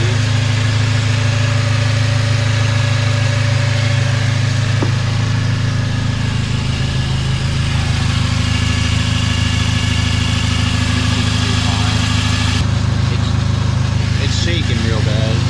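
A 2003 Chevy Cavalier four-cylinder engine idling roughly and shaking on worn motor mounts, a steady low drone with a constant vibrating rumble heard up close, while someone talks over it throughout.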